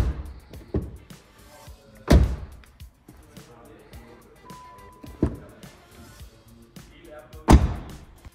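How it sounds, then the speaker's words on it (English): A few heavy thuds of a 2024 Skoda Enyaq 85 Coupe's car door slamming shut, spaced several seconds apart, with quieter clicks and handling noises between them. "let's hear the door closing sound"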